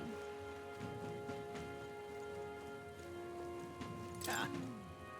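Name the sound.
rain falling in video game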